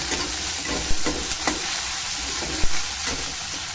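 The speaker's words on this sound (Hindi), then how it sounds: "ये देखिए हमारी सारी वेजिटेबल्स अच्छी तरह से पक चुकी हैं, मतलब फ्राई हो चुकी हैं।" Mixed vegetables with corn fry in a pan for savory vermicelli, giving a steady close sizzle broken by a few soft scraping stirs of the spoon.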